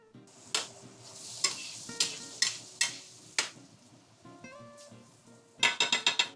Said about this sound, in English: Make sure occasionally stir the vegetables so that to avoid burning.